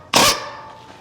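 Impact wrench on a 1992 Chevy pickup, loosening a bolt: one loud, harsh burst of hammering rattle lasting about a quarter second, then a fading ring and low background noise.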